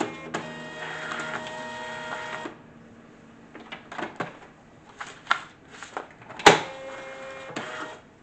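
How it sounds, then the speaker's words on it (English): A home printer prints: a sustained mechanical whir gives way to a run of intermittent clicks, clacks and paper-feed rattles, close and moderately loud. "It would help if I plugged in my printer."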